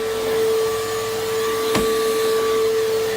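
A PowerForce vacuum cleaner runs steadily and loudly throughout, with a constant motor whine and one brief sharp click or bump near the middle.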